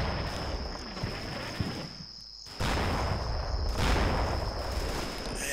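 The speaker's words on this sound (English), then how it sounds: "And this is my larger off-map mortars again." Off-map mortar fire in Combat Mission: Battle for Normandy rumbles as dense, rolling booms and crackling blasts, a brief lull then a sudden loud resumption of heavy, sustained bombardment under a constant high whine.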